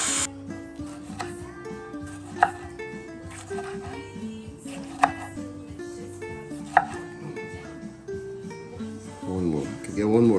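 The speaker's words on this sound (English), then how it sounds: "Cut up the tomatoes." Knife chopping tomatoes on a cutting board for a chicken and shrimp pasta, with repeated rhythmic knocks and a few sharper louder chops, while someone talks over the cutting.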